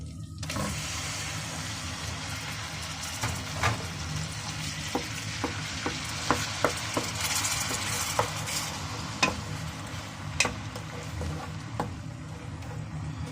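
Paste of two medium onions fries in melted butter for a creamy chicken handi, a steady close sizzle broken by sharp utensil taps and stirring clinks at irregular intervals.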